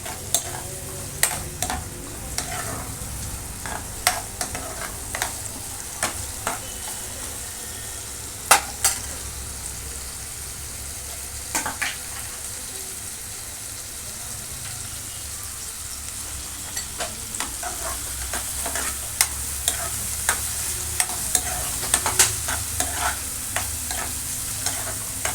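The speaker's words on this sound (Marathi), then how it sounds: "छान शिजवून घ्यायचा आहे टोमॅटो" Tomatoes cooking down in a pan for macaroni masala, a steady close sizzle broken by frequent sharp scrapes and taps of a spoon stirring against the pan, with no one talking.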